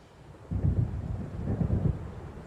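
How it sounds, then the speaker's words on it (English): Thunder from an approaching storm in the video game Alan Wake rolls in as a deep, loud, continuous rumble that swells after a quiet start and lasts about two seconds, with no voices. "It seems there's a storm coming."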